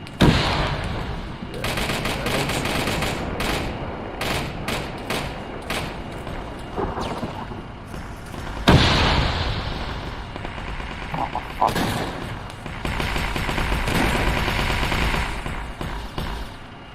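Gunfire in Arma 3 during a squad operation, with bursts of automatic fire and scattered single shots at varying distances, a sharp loud crack near the middle, while people talk over the shooting.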